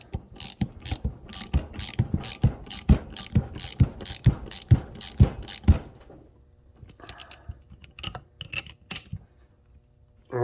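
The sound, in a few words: brake line flaring tool being screwed down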